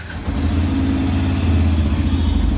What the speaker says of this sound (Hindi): अब हम बाइक को करेंगे स्टार्ट।